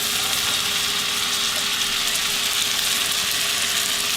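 Mushrooms and onion fry in a pan, giving a steady, even hiss of sizzling with a faint constant hum underneath, close and uninterrupted.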